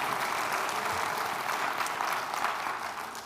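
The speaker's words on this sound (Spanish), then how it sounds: "denle un aplauso fuerte también a Dios por la vida de ellos" A church congregation claps loudly together, a thick even wash of applause holding steady for several seconds with no voices over it.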